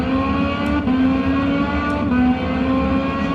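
Race car on a fast lap of the Hungaroring circuit, its engine holding a loud, steady high-pitched whine with brief shifts in pitch, heard close and on its own.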